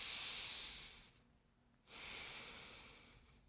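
A deep breath taken during a shoulder mobility routine: a close, airy inhale-like hiss, a short quiet gap, then a second long breath that slowly fades.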